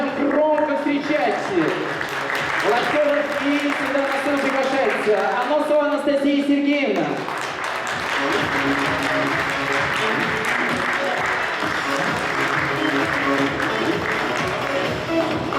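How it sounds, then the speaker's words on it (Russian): Steady applause from the audience at a youth volunteer forum awards ceremony at a university, sustained and fairly loud throughout, with a host's voice announcing names over it early on and music underneath. "Давайте каждого отмечать аплодисментами"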